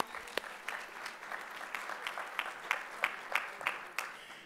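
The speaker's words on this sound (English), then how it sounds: "let's give them a round of applause to get started" A conference panel audience breaks into moderate applause, a dense patter of many hands clapping with a few sharper claps standing out, fairly distant and steady for several seconds.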